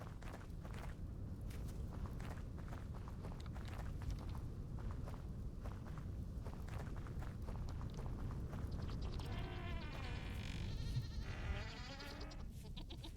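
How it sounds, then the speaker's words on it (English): Sheep in the survival game Vintage Story bleat softly in the later seconds, preceded by a long run of steady footsteps and quiet ambient game sound, all faint. "I love you, sheeps."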